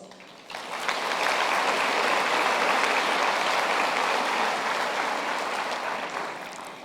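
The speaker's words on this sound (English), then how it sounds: "they too deserve a round of applause" A large graduation ceremony audience applauds lecturers and promoters, the clapping swelling quickly from a quiet hall into a broad, sustained roar, then easing slightly toward the end.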